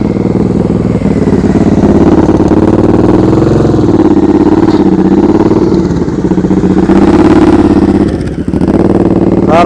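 A motorcycle engine runs steadily at low speed during slow-speed riding practice, a continuous near rumble with slight throttle swells and some clatter, heard alone without talk.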